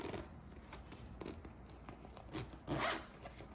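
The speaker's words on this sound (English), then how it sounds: "You have two zippers here." A zipper on a Spider-Man backpack is pulled several times in short rasping strokes, close and fairly quiet, with the last pull louder and longer.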